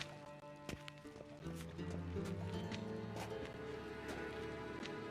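Horses gallop in the Witcher 3: Wild Hunt video game, a steady rhythmic run of hoofbeats starting after a couple of sharp clops, fairly quiet and continuous with faint game ambience.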